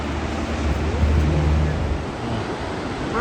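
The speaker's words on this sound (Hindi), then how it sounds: "ये दरिया सिंध यहाँ से जा रहा है" The Indus river flowing through rocky mountain country near Skardu, a broad, loud rushing roar of water with wind buffeting the microphone, continuous and fairly close.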